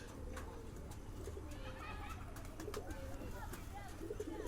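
Bombay pigeons coo with soft, repeated rolling calls, close by over a steady low background hum, with a voice talking faintly underneath.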